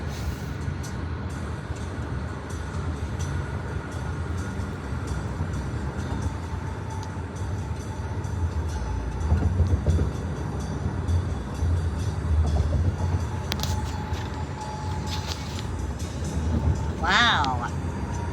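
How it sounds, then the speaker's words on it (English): Union Pacific trains rumble past in fog, a steady low, continuous rolling drone with faint higher squeals, heard at moderate distance while people talk over it. "Union Pacific trains in the fog."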